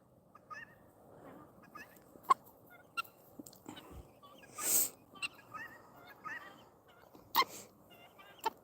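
A bronze turkey tom gobbles once in a loud burst, with quieter farmyard clucks and scattered calls around it outdoors.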